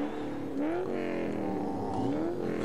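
Ferrari race cars roar off the line, engines revving and rising in pitch together in a loud, dense, continuous accelerating blare.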